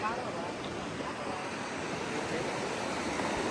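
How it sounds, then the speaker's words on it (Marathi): Continuous rushing water roars steadily close by, a broad wash of flowing river noise with no clear breaks. "आवाज बिवाज पाण्याचा प्रॉपर आहे"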